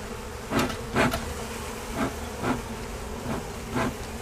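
Honeybees, mostly nurse bees, buzz steadily during a November hive removal from a log, with louder droning swells as individual bees pass close by every half second or so.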